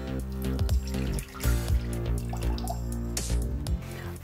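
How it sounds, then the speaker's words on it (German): About 1200 grams of water runs into a Thermomix mixing bowl, a close splashing pour heard under a loud tonal hum, with no voices. "Als erstes geben wir ungefähr 1200 Gramm Wasser in den Mixtopf."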